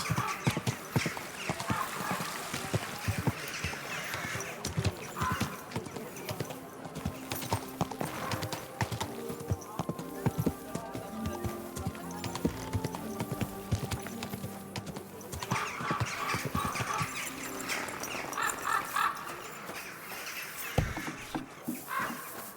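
Horse hooves clip-clop steadily with occasional neighs in the medieval video game Kingdom Come: Deliverance II, mixed with ambient bird caws and game background sounds over a long stretch.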